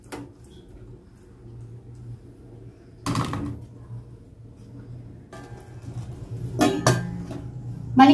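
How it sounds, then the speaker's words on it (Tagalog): Metal lid set onto a pan of chicken cooking in creamy mushroom sauce, a few sharp clanks and rattles at separate moments amid a quiet low simmer, with no talking. "So para po lumambot siya, takpan po natin"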